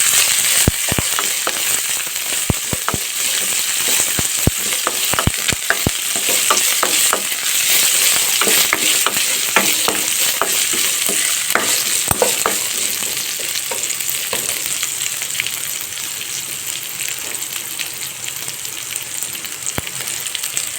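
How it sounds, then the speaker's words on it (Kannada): Ginger, curry leaves, and dried and fresh green chillies fry in hot oil for lemon rice, giving a steady loud sizzle with scattered sharp pops and occasional stirring scrapes throughout, no voices. "ಈಗ ನೋಡಿರಿ ಕರಿಬೇವು ಮೆಣಸಿನ್ಕಾಯಿ ಎಲ್ಲ ಸ್ವಲ್ಪ ಫ್ರೈ ಆಗೈತಿ"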